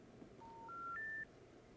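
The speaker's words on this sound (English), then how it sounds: "Oh, that's a phone call." Phone call being dialed: three rising touch-tone beeps in quick succession, clean and fairly faint over a quiet hiss, with no voices.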